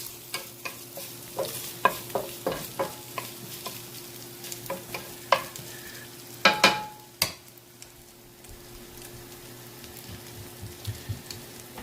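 Steak, onions and peppers fry together on a hot surface for a cheesesteak, with a steady sizzle broken by repeated sharp scraping and stirring clacks from a spatula. No one talks.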